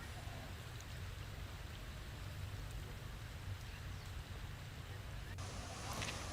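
Heavy rain and rushing floodwater from swollen rivers after three days of continuous rain in Nawada, Bihar, make a steady, dense broadband roar that stays constant throughout at close range.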